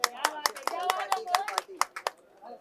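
Scattered hand claps from a small group at a media event, about a dozen sharp claps in an uneven rhythm mixed with someone talking over them.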